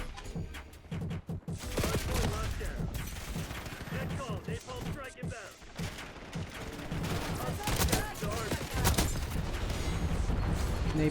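Continuous gunfire in the Black Ops 6 video game, including an Essex Model 07 loadout, dense rattling bursts and booms mixed with game effects, loud and nearly unbroken, with voices talking underneath.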